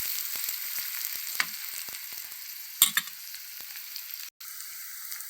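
Sliced onions sizzle in hot oil in a pan for a mutton heart curry, a steady close frying hiss broken by a few sharp clicks and pops from stirring.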